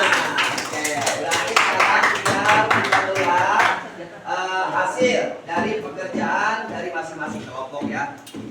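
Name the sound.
audience applause for the students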